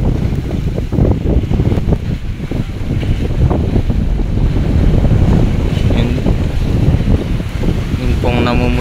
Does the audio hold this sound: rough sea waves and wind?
yes